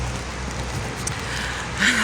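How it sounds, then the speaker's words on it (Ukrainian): Rain falling steadily on an umbrella while walking outdoors on a cool day, a soft continuous patter close by, with a brief brighter rustle near the end. "На вулиці вийшла, прохолодна і ще й дощ падає."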